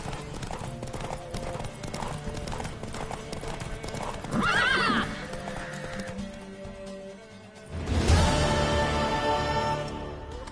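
Rapid hooves clatter in a steady galloping rhythm during a horse race in the video game The Witcher 3: Wild Hunt, joined by a horse's whinny midway and a swelling burst of louder activity near the end.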